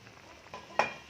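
Pompano fish frying in a pan for kinamatisang pompano, a soft, steady sizzle with a couple of faint stirring or scraping touches near the end.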